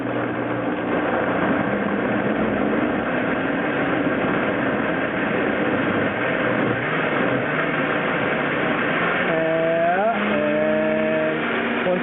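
Vitamix blender running steadily on a green smoothie, a loud continuous motor whir throughout with a pitch shift near the end as the speed changes.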